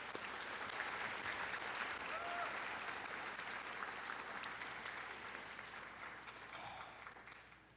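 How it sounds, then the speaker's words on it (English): Applause from a commencement audience fills the whole stretch as a steady, dense wash of clapping that thins slightly toward the end. "Could we please get a round of applause?"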